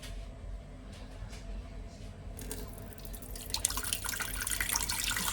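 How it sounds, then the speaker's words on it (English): Water runs from a tap into a Ninja cooker, a soft splashing stream that grows louder and fuller partway through and carries on steadily to the end. No talking. "I'm going to just put a bit of water in."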